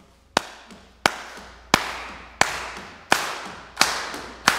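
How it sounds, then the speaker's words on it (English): Sharp, loud claps land at a slow, steady beat about every 0.7 seconds as an audience at a church service claps along to a song, each one a crisp close smack with a brief decay. "So I'm gonna need a little bit of a clap from you also."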